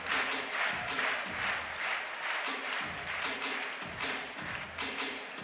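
Crowd in a 3,500-seat arena clapping at the 2006 World Gymnastics Championships women's all-around final, a steady continuous patter of applause with rhythmic pulses, under commentary voices.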